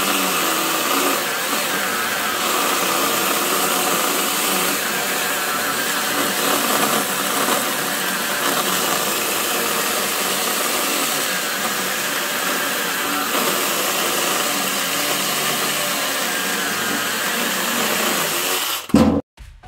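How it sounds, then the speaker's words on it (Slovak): A Parkside PGHSA 12 A1 12V cordless chainsaw cuts continuously through fresh acacia wood, giving a steady, loud, broadband motor whine and cutting roar that holds unbroken for the whole stretch before cutting off abruptly near the end. "Budem pracovať nepretržite a rezať agátové drevo, ktoré je svieže."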